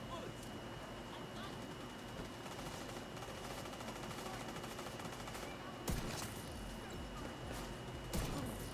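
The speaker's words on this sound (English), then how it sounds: "Somebody shooting at me in the back?" Gunfire in the video game The Division 2: a dense, continuous rattle of automatic shots at moderate distance, with a couple of louder bursts near the end.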